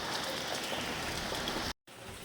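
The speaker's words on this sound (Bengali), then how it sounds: "খুব বাজে অবস্থা, দেখুন খুব বৃষ্টি হচ্ছে" Steady heavy rain falling in a dense, even wash of noise, briefly cut off by a short gap before resuming.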